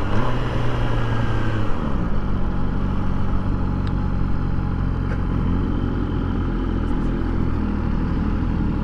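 A 2021 MV Agusta Brutale 1000 RR with an inline-four engine roars loudly and continuously while being ridden, settling from a deeper note into a steady dense drone with wind rush.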